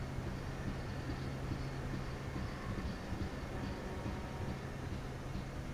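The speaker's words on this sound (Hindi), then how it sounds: "एक और ट्रेन को हम लोग कर रहे हैं ओवरटेक" Trains passing side by side in the Open Rails simulator, an AC Duronto Express overtaking another train, a steady low rolling rumble of wheels and coaches, constant and unbroken throughout.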